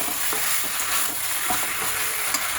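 Turmeric and salt are stirred in a hot frying pan, giving a steady close sizzle with soft scraping strokes of the spoon repeating under it.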